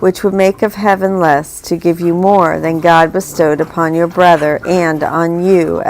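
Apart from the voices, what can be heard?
No distinct noise like a dog, phone or traffic.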